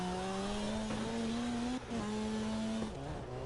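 The Falcon FC 90 S drift car in CarX Drift Racing drives with a close, steady engine drone. The pitch holds, dips briefly and rises again as the car shifts and revs, with a light edge of tire noise.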